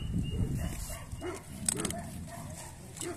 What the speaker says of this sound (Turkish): Birçok köpek var ama.